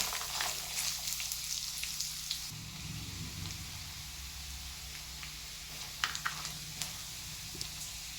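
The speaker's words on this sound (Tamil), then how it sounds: "நமக்கு கண்ணாடி பதத்துக்கு வெங்காயம் வணங்கினா போதும்" Sliced onions sizzle and fry steadily in a pan for egg kurma, a continuous close crackle with occasional stirring clinks and no talk.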